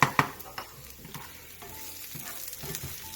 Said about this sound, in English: we've been frying this for about 7 minutes now